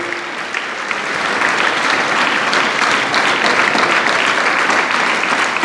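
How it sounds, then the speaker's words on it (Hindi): Students at a village welcome event clap loudly and steadily, a dense, continuous wall of applause that holds its level for several seconds without pause. "एक बार सभी विद्यार्थी जोरदार तालियों से स्वागत और अभिनंदन करने का कार्य करेंगे।"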